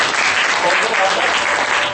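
A church congregation applauds during a service, a dense, loud wash of many hands clapping together that fills the short span without pause, heard up close in a large room.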